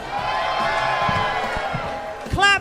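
Cheering crowd at a live drag-hosted awards show, a steady wash of whoops and applause filling the room, with a few louder shouts and a brief sharp burst near the end.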